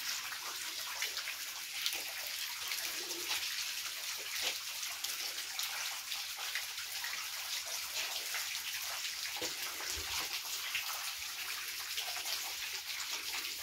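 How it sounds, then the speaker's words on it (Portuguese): Water falls and drips continuously inside Aroe Jari, a large dark cave in Brazil, making a dense, even hiss of splashing drops with no pauses. "A mesma água que está caindo aqui, ela cai lá em cima."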